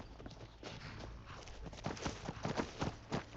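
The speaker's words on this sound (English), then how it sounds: "Got the fleetest steeds in all of Skyrim." Horse hooves clip-clop at a walking pace on hard ground in the video game Skyrim, a steady uneven rhythm of close, moderately loud footfalls over a soft background hum.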